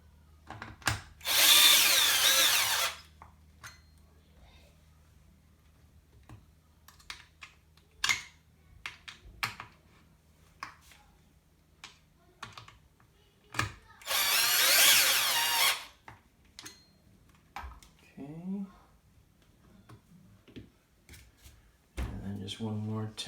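A power drill drives stainless steel screws into a Pro-Line Pro-Fusion 4x4 1/10-scale RC truck in two loud, close whirring bursts, separated by clicks, rattles and handling noises.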